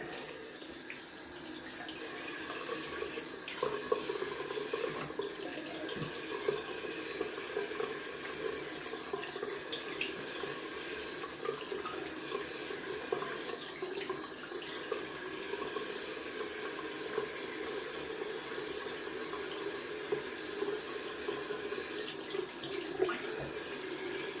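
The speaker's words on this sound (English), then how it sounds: "Rinsing off with cold water." Cold tap water running steadily into a sink while a face is rinsed after a wet shave with a stainless steel safety razor, a continuous close hiss with small splashes and no talk.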